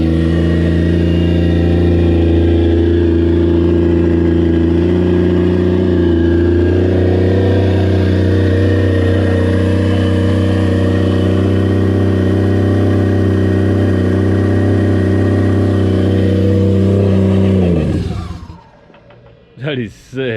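A Toyota 1JZ-GTE VVTi swapped into a Scion FR-S runs loud and close with a steady idle drone, then cuts off near the end, leaving brief faint noises.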